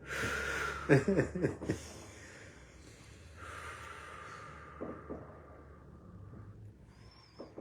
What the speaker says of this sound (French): Attends, je vais respirer.